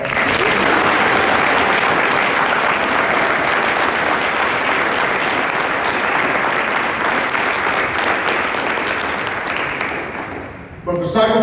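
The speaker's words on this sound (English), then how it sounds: "Give yourselves a round of applause." A crowd at an awards banquet claps loudly and continuously for several seconds, the applause fading out near the end.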